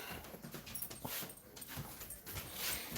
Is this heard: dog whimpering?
yes